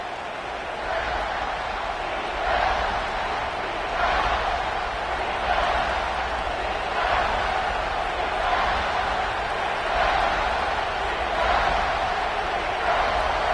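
Stadium crowd at Neyland Stadium roaring steadily through a big third-down play in a college football game, a dense sustained wash of noise that swells in rhythmic pulses without letting up.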